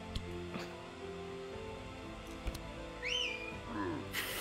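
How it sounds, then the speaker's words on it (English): A character in the video game Across the Obelisk whistles a few short rising and falling notes among soft game effects and chimes, and low voices talk faintly underneath. "He's just standing there, whistling."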